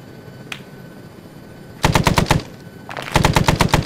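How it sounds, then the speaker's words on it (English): Rapid automatic gunfire in a video game battle crackles in two sharp, loud bursts of repeated shots, the second burst longer, after a quiet stretch with one faint earlier pop. "There's a lot of people shooting at us,"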